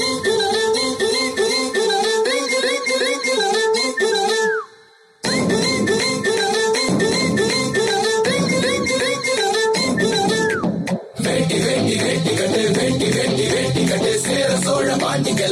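A Photron P10 Wash waterproof Bluetooth speaker plays loud, full-range music with steady beats and melodic tones, cutting out briefly twice before resuming at the same volume.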